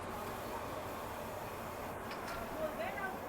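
A steady, low rumble from inside a moving train in Da Lat, Vietnam, held at a constant level with no distinct clacks; faint and continuous.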